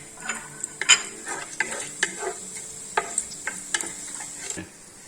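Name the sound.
frying cashews and raisins in ghee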